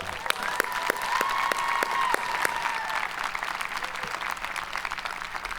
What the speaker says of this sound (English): why don't you give yourselves a round of applause for what you've done?